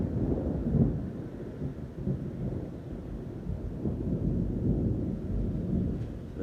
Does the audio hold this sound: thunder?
yes